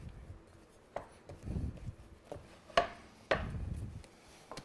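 Bread dough punched down and handled by hand on a work surface, giving several soft dull thumps and slaps spaced irregularly, close and fairly quiet, with no talking.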